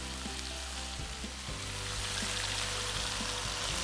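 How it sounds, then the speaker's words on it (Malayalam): Chicken pieces sizzle steadily in sunflower oil in a pan for a Goan chicken cafreal, a continuous close frying hiss with low background hum and no talk. "ഇപ്പോൾ എല്ലാ ചിക്കൻ പീസസും നമ്മൾ ഇട്ട് കൊടുത്തിട്ടുണ്ട്. ഒരു 5 മിനിറ്റ് വീതം 2 സൈഡ് നമുക്കൊന്ന് ലൈറ്റായിട്ട് ഫ്രൈ ചെയ്തെടുക്കാം."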